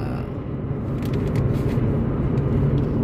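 A car on a post-repair road test for an intermittent engine cut-out and check engine light hums along with a steady low engine and tyre rumble heard from inside the cabin, growing slightly louder.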